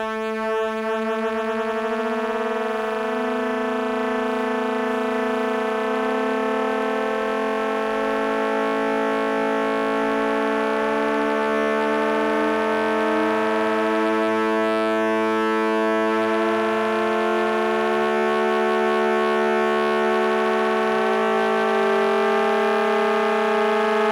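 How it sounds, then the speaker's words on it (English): Two sustained musical tones play against each other, one gliding slowly so the blend shifts from rough and beating to smooth; a steady, loud, even sound with no talk over it. "It's basically one note against another, and some will sound more gritty, and others will sound more smooth."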